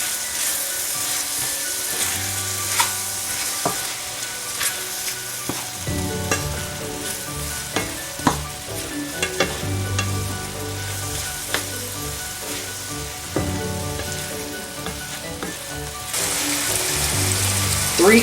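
Chicken and vegetables sizzle steadily in a hot pot, a constant crackling hiss punctuated by occasional clinks and scrapes of stirring.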